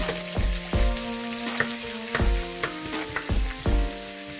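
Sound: onions sautéing in a pan

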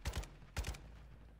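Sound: gunfire in Call of Duty DMZ video game

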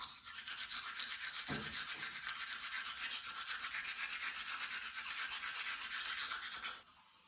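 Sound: toothbrush brushing teeth

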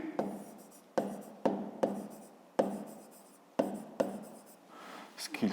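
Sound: writing by hand

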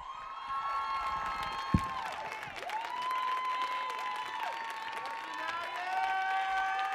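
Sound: audience applause and cheering

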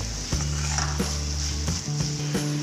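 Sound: stirring egg masala with chili powder sizzling in pan

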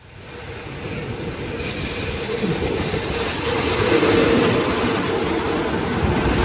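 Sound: Daewoo diesel railcar express train arriving at station

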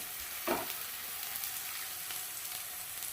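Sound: onions frying in oil

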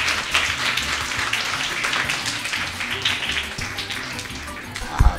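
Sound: audience applause welcoming the teacher

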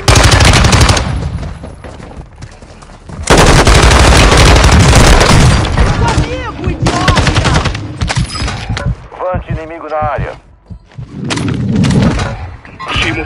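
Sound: gunfire in Call of Duty video game

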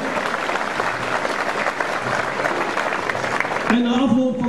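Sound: applause

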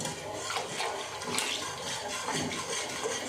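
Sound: pouring dissolved ragi flour batter into water while stirring

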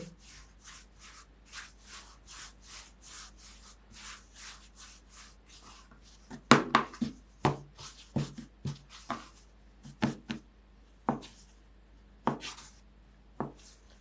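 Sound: cutting dough and shaping fried liver pies by hand

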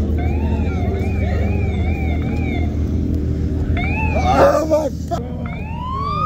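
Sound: police car siren at car meet

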